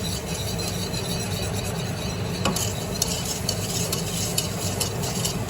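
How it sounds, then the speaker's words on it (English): A whisk scrapes and stirs dry fudge ingredients, cocoa, sugar and a pinch of salt, in a bowl, a steady close gritty swishing with light clicks against the bowl throughout. "Mix together. We're using a whisk."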